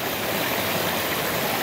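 Water rushes steadily through a Gold Hog sluice set up for gold prospecting, a loud, even, hissing flow with no voices.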